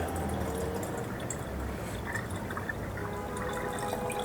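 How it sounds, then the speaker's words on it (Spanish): Thick homemade pH leveler mixture pouring into irrigation water, a continuous soft liquid splash and trickle lasting throughout, close and moderately loud with no talk. "ahora colocamos esto en el agua de riego de esta manera"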